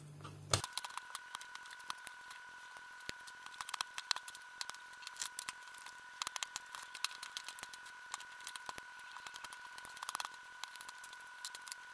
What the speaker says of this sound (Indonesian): menggunakan cutter semuanya kita lepas